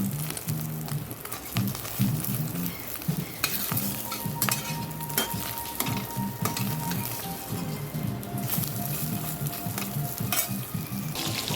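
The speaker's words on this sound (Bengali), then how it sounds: "চারটে গোটা ডিম আমি ভেজে নিচ্ছি" Four whole eggs fry in a pan with a steady, close sizzle, crackling and popping continuously, with occasional scrapes and clicks.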